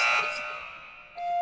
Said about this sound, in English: Hey, gentlemen, I found my buzzer.